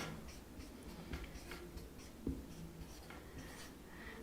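Chalk or marker writing on a classroom board during a Brazilian second-grade maths lesson about money, heard as soft scratchy strokes with a couple of sharper taps, faint and close, with no talk.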